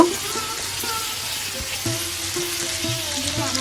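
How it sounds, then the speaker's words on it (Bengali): Sweet pumpkin pieces sizzle steadily in a hot pan, a continuous close frying hiss with a few soft scraping stirs and no voices. "তো আমি আর একটু অল্প সময় ভেজে নিব।"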